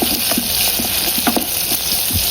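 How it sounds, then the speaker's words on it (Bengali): Onions fry in hot oil in a pan, a loud, steady, close sizzle with small crackles and pops throughout and no talking. "এইদিকে আমি যে পেঁয়াজটি ভেজে নিচ্ছি"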